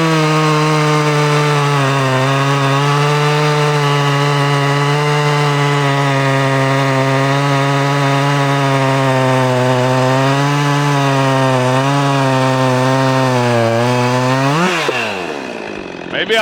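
A Husqvarna 261 60cc chainsaw, stock and old school, runs at a loud, steady high rev while cutting wood, the pitch dipping slightly under load before rising and winding down at the end.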